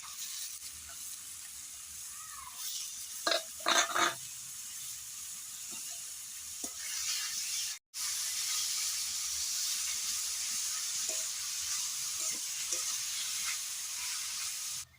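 Grated papaya goes into hot oil tempered with dry red chilies and radhuni for papaya chutney, giving a loud, steady sizzle and hiss with a few scraping knocks and a brief break midway.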